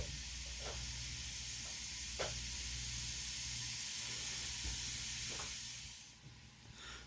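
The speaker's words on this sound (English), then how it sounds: "And now you just brown off your beef." Beef browning in a pan, giving a steady, fairly faint sizzle and hiss throughout with occasional soft stirring clicks, easing off toward the end.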